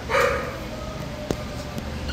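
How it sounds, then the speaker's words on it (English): A small male dog, about a year old, barks at an animal shelter: a brief yipping bark near the start, then faint whimpers over steady kennel background noise. "Little dog."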